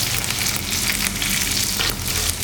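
Dried chilies and small onions sizzle and fry steadily in a pan for mor kuzhambu, a loud continuous crackle with light stirring and no talk.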